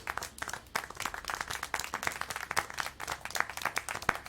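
Scattered clapping and applause in the video game Syberia 4, a modest, uneven patter of hand claps from a small group, fairly faint and steady throughout.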